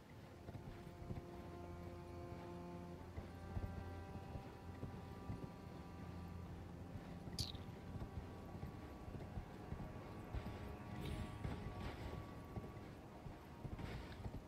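Hooves clip-clopping at a steady pace as a horse is ridden in Elden Ring Shadow of the Erdtree, faint and continuous under wind and low game ambience.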